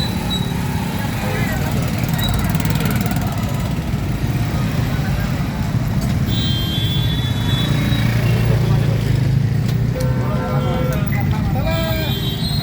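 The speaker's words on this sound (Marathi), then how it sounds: "बागेवाडी हद्दीपर्यंत कॅनॉलपर्यंत ट्रॅफिक जाम झालेलं आहे" Congested one-way road traffic near a canal, with a tanker broken down and under repair in the roadway: a steady loud rumble of idling and creeping engines, occasional motorcycle revs and faint horns, with people talking over it.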